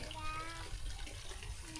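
Water runs and splashes while a small girl plays in it during evening garden watering on a family farm, a soft continuous rush with faint voices underneath.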